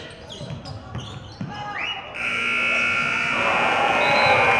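A game-ending buzzer sounds in a gym at a boys high school basketball regional playoff game, entering about halfway as a loud, sustained tone over rising crowd noise, after bouncing and scattered voices.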